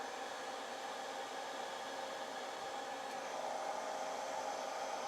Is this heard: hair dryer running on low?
yes